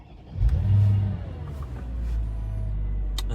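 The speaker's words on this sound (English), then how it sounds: "start the engine up again" A Mercedes SL55 AMG with an electrical fault starts by keyless go: a brief starter whir, then the engine catches with a loud rev and settles to a steady rumbling idle close by, no voices.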